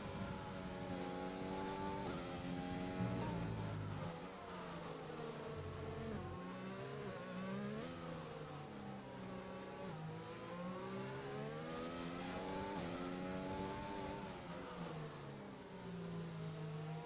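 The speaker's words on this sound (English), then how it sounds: "We'll just listen to that engine." Race car engine heard onboard in a racing video game at the Brazilian Grand Prix, screaming loudly and continuously, its pitch sweeping up and down through gear changes and revs, with no voices.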